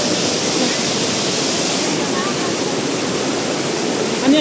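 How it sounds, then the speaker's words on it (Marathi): A hidden waterfall at Arjunkada in Kharghar roars close by, a loud, dense and unbroken rush of falling water with a voice faintly mixed in. "हा पण एक गाईज हिडन वॉटरफॉल आहे"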